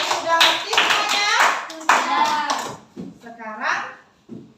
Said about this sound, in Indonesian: Tepuk tangan untuk kelas 4B.